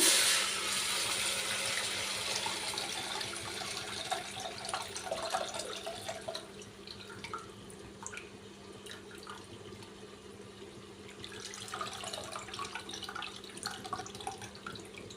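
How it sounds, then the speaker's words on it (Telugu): Water pours steadily into a pot of tomato rasam with a rushing, splashing sound that is loudest at first, then softens to trickles and drips. "ఇప్పుడు ఇందులోకి ఇంకోసారి వాటర్ యాడ్ చేస్తున్నామండి"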